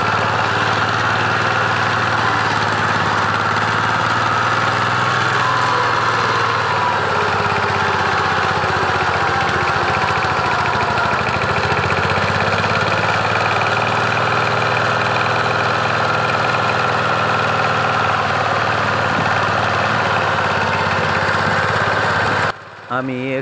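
A farm vehicle's engine labouring with its wheels stuck in a soft field: a near, continuous mid-pitched drone that holds steady, then cuts off abruptly at the end.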